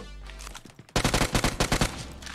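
Uzi gunfire in the mobile game PUBG Mobile: after a quiet lead-in, a loud burst of rapid automatic shots rattles off in quick succession, close and dominant for over a second.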